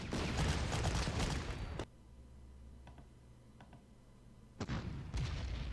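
Artillery in the Panzer Corps war game shells an anti-tank gun, loud rumbling barrages separated by a quiet gap with a few faint ticks before another blast returns.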